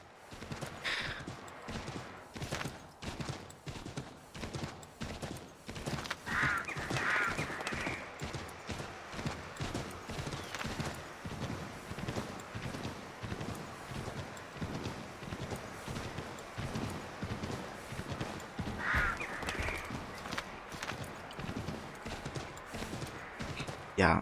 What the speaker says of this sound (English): The horse knocks over some people